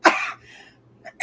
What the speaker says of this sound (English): I cannot get this cough to go away.